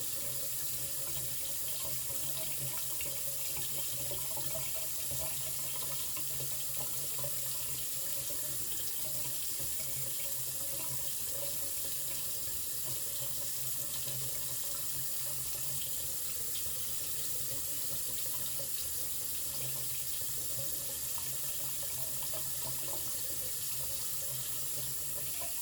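Tap water runs steadily into a sink as a microfibre cloth is rinsed under it, a continuous close hiss and splash lasting throughout without any talking.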